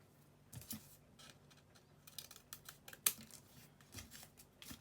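Scissors snipping paper while a Mother's Day card is being made: a string of faint, close, irregular little cuts and clicks with quiet gaps between them and no voices.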